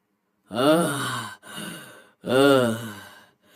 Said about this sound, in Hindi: दोनों जमीन पर गिरकर हांफने लगते हैं